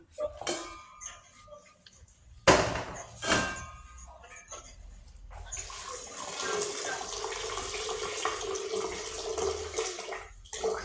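Lukewarm water runs from a kitchen tap in a steady, fairly loud stream during the second half, after a few sharp clinks and knocks of dishes, with a little background speech.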